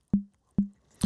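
Three short, percussive synthesizer blips with a low, round thump, the first two evenly spaced and the third brighter and noisier.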